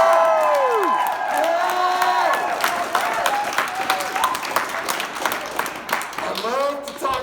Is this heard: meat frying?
no